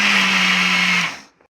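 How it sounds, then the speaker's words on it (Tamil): A kitchen mixer grinder whirs loudly and steadily as it blends unboiled raw cow's milk for a cake batter, then cuts off and winds down into silence. "சேர்த்து மிக்சியில் ஒரு ஓட்டு ஓட்டிக்கலாம்."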